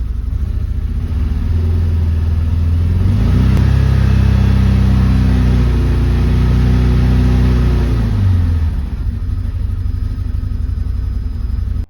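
A Can-Am Defender HD9 off-road vehicle with a DPS cab sits idling loudly, then its engine revs up to about 3,000 rpm, holds steady for several seconds and drops back to a rumbling idle, with no talking.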